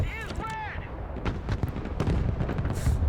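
Artillery fire in the Broken Arrow war game during battle for a city: repeated heavy booms and rumbling blasts spread across the moment, with a whistling sweep early on and constant battle noise underneath.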